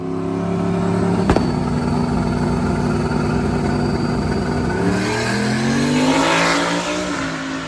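An LS-swapped drag car launches and runs down the strip, its engine roaring loud and continuous with a sharp crack early on and rising pitch as it pulls through the gears, no talk over it.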